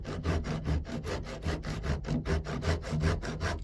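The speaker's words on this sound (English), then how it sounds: "Keep spinning the lathe in your hand as you keep sawing." A hand saw cuts a double barley twist spiral into a wooden candlestick blank, rasping in quick, steady back-and-forth strokes, close and moderately quiet, with no talking.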